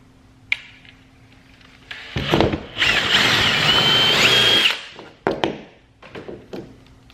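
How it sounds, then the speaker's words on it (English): A power drill bores a hole through a small piece of wood, a sustained whining burst of about three seconds, close and fairly loud, framed by a few knocks and handling clicks before and after. "what I'm gonna do is kind of drill a hole in a little piece of wood"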